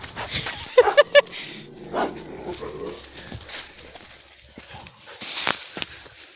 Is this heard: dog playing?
yes